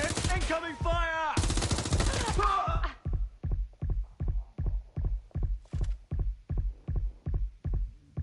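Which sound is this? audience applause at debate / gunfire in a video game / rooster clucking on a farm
gunfire in a video game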